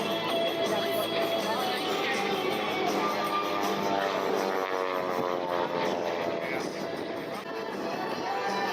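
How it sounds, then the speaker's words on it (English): Aerobatic propeller airplane performing snap rolls and knife-edge passes at an airshow, its engine droning loudly and continuously throughout with a wavering pitch as it maneuvers. "He's really working that aircraft."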